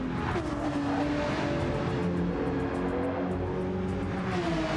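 A Porsche race car in a racing video game at Mt Panorama roars loudly and continuously, engine pitch rising and falling through gear changes, with faint tyre noise and no talking.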